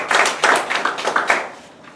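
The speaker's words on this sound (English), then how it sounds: "give him a big round of applause" An audience at a Toastmasters club meeting gives a short round of applause, a burst of dense clapping that fades within about two seconds, no voices.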